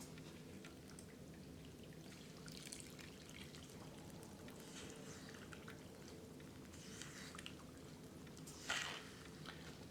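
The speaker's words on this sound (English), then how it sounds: "I'm just going to pour water very slowly and start mixing with this spoon" Water trickles slowly into a cement mix for DIY skull casting, with soft wet pouring and faint stirring textures from a spoon, quiet and close, with a brief louder scrape near the end.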